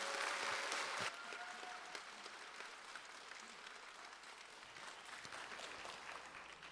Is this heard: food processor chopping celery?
no